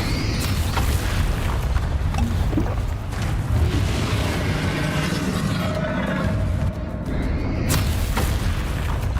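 Repeated booming blasts from the Bombarda spell in the Hogwarts Legacy video game, loud, close bursts with crackling debris and a rumbling low end over about nine seconds.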